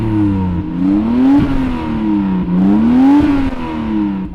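A Toyota Supra engine revs repeatedly, close and loud, its pitch sweeping up and falling back in a few rising and falling surges, with no talk.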